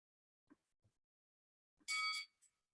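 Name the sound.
bell being rung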